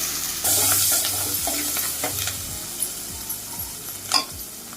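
Onions sizzle and fry in hot oil for a prawn curry, with a spoon or spatula stirring and scraping the pan in steady repeated strokes, close and fairly loud.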